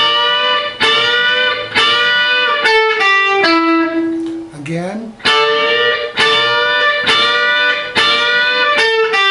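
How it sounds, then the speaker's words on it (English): Electric guitar lick from a song: loud, sustained notes struck four times, with a string bend and a pull-off sliding the pitch mid-phrase before the repeated strikes return; a brief spoken word comes near the start. "We're going to bend the 2nd string up as we strike them together 4 times with a pull off"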